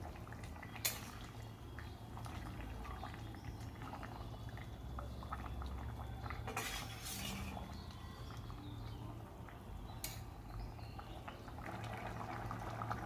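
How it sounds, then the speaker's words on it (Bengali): A thin rohu fish curry broth with potatoes and drumstick pods simmers in a pot, giving a quiet, steady bubbling and popping with occasional louder bursts, heard close but at low volume with no voices. "আমি মাছের সাথে আরও 10 মিনিট মতো ঝোলটাকে ফুটিয়ে নেব"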